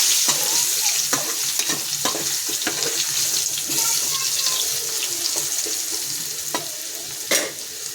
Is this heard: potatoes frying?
yes